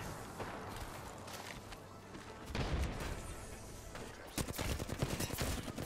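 Gunfire in the Apex Legends video game, rapid bursts of automatic shots that crackle faintly at first and then grow louder, with a dense volley near the end, alongside scattered in-game footsteps.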